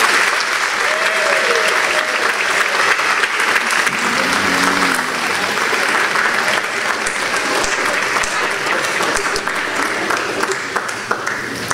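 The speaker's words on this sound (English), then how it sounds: "with a round of applause" A large commencement crowd at Penn State Great Valley breaks into loud, sustained applause, thick continuous clapping with faint voices mixed in throughout.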